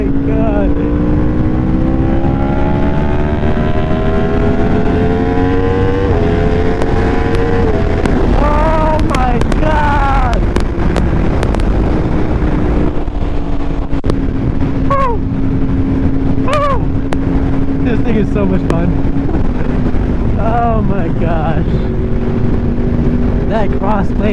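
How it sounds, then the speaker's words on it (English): A motorcycle downshifts through its gears while riding, the engine note dropping and then blipping up in several quick sharp rev bursts over a steady loud drone, with wind rush throughout. "listen to these downshifts"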